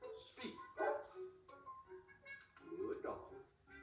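A dog barks on command in a children's story reading about Officer Buckle and his police dog, with a couple of short barks mixed among spoken voices and music.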